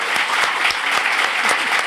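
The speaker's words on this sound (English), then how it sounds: "a big round of applause to our very own Maxine Beneba Clarke" Audience applause for author Maxine Beneba Clarke at a Wheeler Centre books and ideas event in Melbourne, a steady, dense round of clapping filling the whole stretch without any voices.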